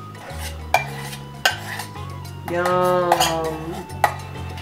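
A spoon stirs pimento cheese spread with sauce in a bowl: sharp clinks against the dish at intervals and a longer wet, scraping swirl in the middle. A voice murmurs briefly.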